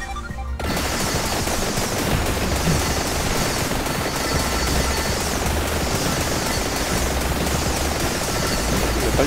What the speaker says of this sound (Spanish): Las explosiones extra ayudan mucho.